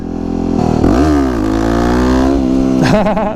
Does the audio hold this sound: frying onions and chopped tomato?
no